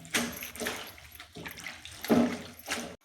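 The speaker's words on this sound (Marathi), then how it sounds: "अशी भाजी धुवून घ्यायची चांगल्या पाण्याने," Leafy safflower greens are washed by hand in a vessel of water, making about five separate splashing, sloshing bursts in a loose rhythm, close and fairly soft.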